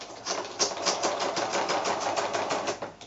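A sewing machine stitches a straight line through a paper card, giving a fast, even run of clunky needle strokes, close and moderately loud, with no talking.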